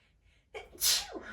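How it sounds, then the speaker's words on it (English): A single sharp sneeze bursts out after a brief quiet intake of breath, close and fairly loud, with a short trailing exhale. "I may have to sneeze here."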